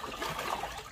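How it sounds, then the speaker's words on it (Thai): Water runs and splashes steadily while a baby elephant is bathed, making a close, continuous hissing wash with no talking. "น้ำไหลซ่าครับผม"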